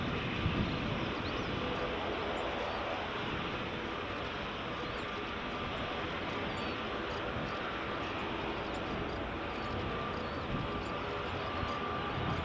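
A Ryanair airliner landing at Edinburgh Airport in the early morning makes a steady, distant broadband jet roar that holds evenly throughout.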